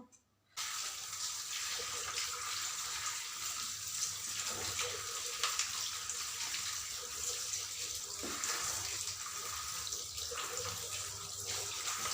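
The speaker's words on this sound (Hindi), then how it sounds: "सारों को धो लेती हूँ पहले इनको" Tomatoes being washed under a steadily running kitchen tap, a loud continuous splash of water that stays even and close for the whole stretch, with no talk over it.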